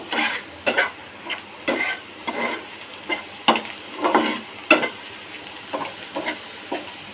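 Onion fries in a pan as it is turned with a spatula, a continuous sizzle broken by repeated rhythmic scrapes and taps of the utensil against the pan, close up and with no voices.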